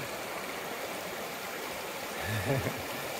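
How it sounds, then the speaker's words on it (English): Small mountain creek flowing about two kilometres from Assiniboine Lodge, a steady broadband rush of water running close and continuous, with a brief low voice murmur near the end. "there's this beautiful little creek"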